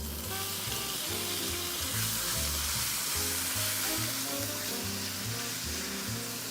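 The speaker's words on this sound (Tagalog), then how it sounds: "i-brown mo muna ang bawang. And then, ilagay na natin ang ating ground pork." Ground pork and browned garlic frying in a pan, giving a loud, dense, steady sizzle across the whole stretch with rhythmic low thumps from background music and no talk.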